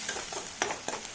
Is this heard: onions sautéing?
yes